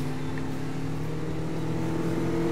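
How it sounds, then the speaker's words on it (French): A car engine in the racing video game Need for Speed Most Wanted drones and revs steadily, its sustained tonal roar close and constant with no talking. "que ce soit les bruits de moteur"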